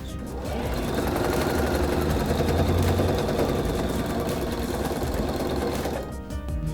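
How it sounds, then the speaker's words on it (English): A sewing machine stitches a seam allowance along the top of a fabric tote bag, a close, steady rapid chatter running for about six seconds before stopping. "it's time just to run a seam allowance all along the top of our bag"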